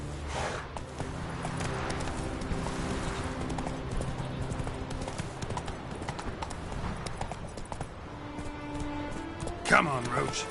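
Roach the horse's hooves clip-clop steadily in The Witcher 3, close and continuous over game music and ambience, with someone talking over the hoofbeats and a brief louder burst near the end.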